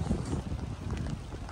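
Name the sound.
wind blowing on a hill, wind noise on microphone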